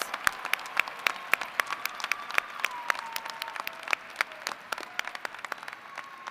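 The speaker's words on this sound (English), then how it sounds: "Join me in a round of applause for all of our master's degree candidates." Applause at a university winter commencement for graduating master's degree candidates, a large crowd clapping steadily with sharp individual claps standing out, heard from a moderate distance.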